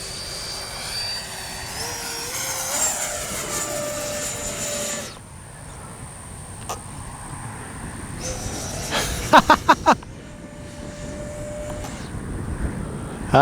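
A Freewing 70mm Yak 130 RC jet whines overhead, its engine tone sweeping in pitch as it passes, then fading to a quieter hiss broken by a few sharp clicks near the end.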